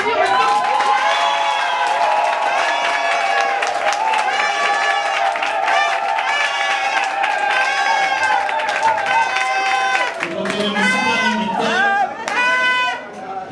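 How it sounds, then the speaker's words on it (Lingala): An audience claps and cheers through a live concert by a Congolese singer, with loud, sustained applause that shifts into a noisier crowd swell near the end. "On va l'applaudir maintenant."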